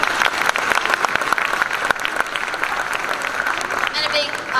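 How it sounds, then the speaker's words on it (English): Applause from a pageant audience fills the stage, a steady dense clapping with sharp individual claps standing out, mixed with some voices. "Can we give him a round of applause"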